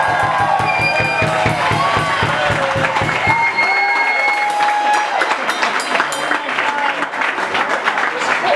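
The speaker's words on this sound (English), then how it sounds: "And also a special round of applause for the band." Audience applause and cheering for a small jazz trio after a standards song, loud and dense throughout, with a few voices whooping over the clapping as the last sung notes fade at the start.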